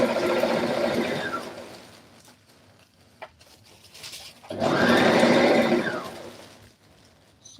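A sewing machine stitching a seam on a peplum blouse runs in two steady whirring bursts separated by a short pause, close and fairly loud, with no voices.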